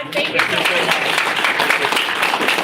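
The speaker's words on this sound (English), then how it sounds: "let's give a big round of applause" Audience clapping at a community police district meeting, a steady broadband patter of many hands filling the room, with a voice speaking briefly over it.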